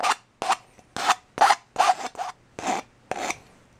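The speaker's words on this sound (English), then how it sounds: "then I use a file and just go around and smooth out the outside edge first." A hand file rasps around the cut outside edge of a Fancy Feast can alcohol stove, with about eight crisp, evenly paced metallic strokes, close and clear with no talk.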